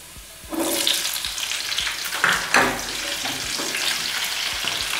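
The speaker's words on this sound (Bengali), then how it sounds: "তারপর আমি কেটে রাখা পেঁয়াজগুলো দিয়ে দেব" Chopped onions for chilli paneer drop into hot oil and fry with a loud, steady sizzle that starts abruptly after a quiet moment, with occasional stirring bursts and clinks throughout.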